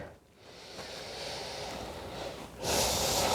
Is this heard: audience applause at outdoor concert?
no